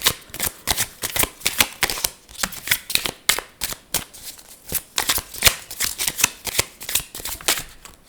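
Tarot message cards being shuffled, a steady run of crisp papery riffles and flutters repeating close-up without any voices.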